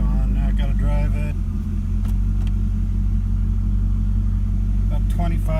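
An LS1 Camaro rumbles steadily at low engine speed while being driven, with someone talking over the constant drone.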